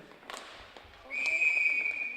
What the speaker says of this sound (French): Là, on siffle l'arrêt du jeu.